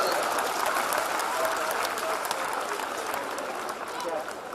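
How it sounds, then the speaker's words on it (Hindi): Steady crowd clapping at a Hindi comedy poetry show, a dense, even patter held throughout at moderate loudness. "आप तो खाली तालियां बजा दो तो ज्यादा अच्छा लगेगा"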